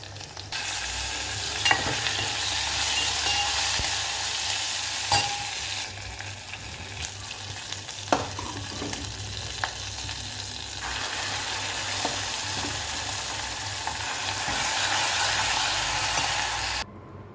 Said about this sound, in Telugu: ఇప్పుడు దీన్ని తాలింపు వేసుకుంటే ఇంకా బాగుంటుంది ఇప్పుడు నేను తాలింపు చూపిస్తున్నాను కదా